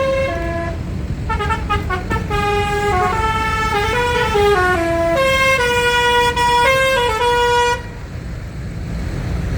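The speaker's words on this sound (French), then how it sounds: "J'aime bien le klax, la sirène de train." A loud, multi-tone truck air horn blares in sustained bursts, changing pitch like a train horn, over steady engine rumble at a farm protest, then cuts off abruptly near the end.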